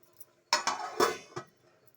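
A plate set as a lid over a cooking pan while making avarekai bath, giving a few quick, close ceramic-on-metal clinks and rattles in a short cluster, otherwise quiet.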